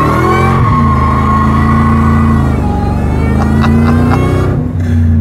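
A Ford F-150 SVT Lightning pickup truck, heard from inside the cab, with its engine roaring loudly under hard acceleration and steadily rising in pitch, a dense continuous rumble with no talking.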